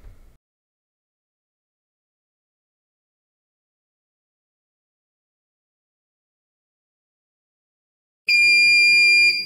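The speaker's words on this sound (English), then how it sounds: "A third beep will indicate that the test is now complete." An electronic beep from an Alientech KESS3 tuning device during a Dynodrive vehicle test, a single steady tonal beep arriving abruptly near the end after long silence.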